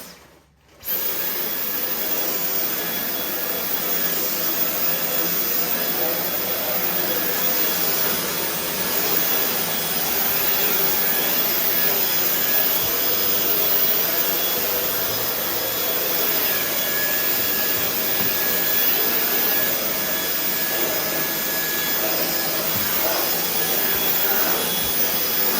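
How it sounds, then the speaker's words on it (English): A Dyson V10 Animal cordless vacuum cleaner switches on after a moment of quiet and runs loud and steady at close range, a continuous high whine with airflow roar throughout. "So I'm just gonna go ahead and try to vacuum what I can."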